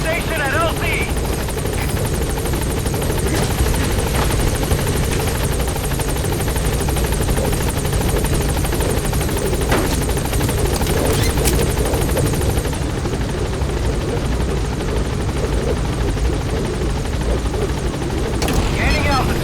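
Helicopter in Metal Gear Solid V: The Phantom Pain coming in to land, a steady loud rotor and turbine roar filling the whole stretch without letup, with game radio chatter over it.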